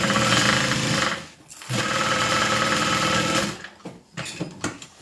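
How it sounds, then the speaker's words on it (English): A sewing machine runs loudly and close, stitching quilted bag panels together, a continuous rapid whir that stops briefly, restarts, then breaks into short stop-start bursts. "the easiest way is just to sew those two pieces together, and that's the full size panel"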